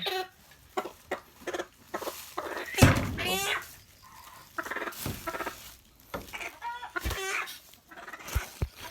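Native chickens cluck and squawk nearby in short bursts while people talk at a rural hut.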